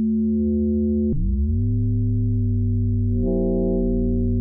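Electronic FM synthesis tones made in Pure Data, with shifting, metallic timbres: a buzzy note, a swooping pitch bend, then a steady hum gaining brighter overtones.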